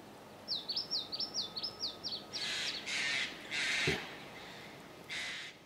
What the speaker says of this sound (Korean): 새들은 오락가락 하는데.